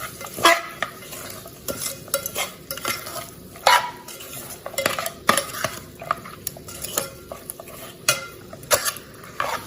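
A spoon clatters and scrapes through pork curry with spices in a pan, in irregular metallic stirring strokes over a light frying sizzle, close and fairly loud.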